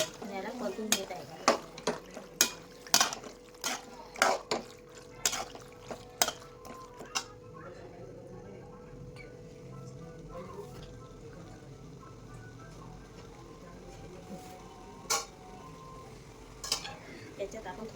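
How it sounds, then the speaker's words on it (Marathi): Pasta seasoned with pizza oregano is sautéed in a pan, with a run of quick, sharp utensil taps and scrapes against the metal over a soft frying hiss, then the clicks thin out to a steady quiet sizzle. "पिझ्झा ऑरिगॅनो टाकत आहे आणि याला परतून घेत आहे."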